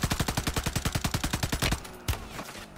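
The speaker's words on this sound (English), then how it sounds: "somebody's shooting me" Rapid automatic gunfire in a video game: a fast, steady burst of about twenty shots over a second and a half, then one more sharp shot after a pause, loud and close.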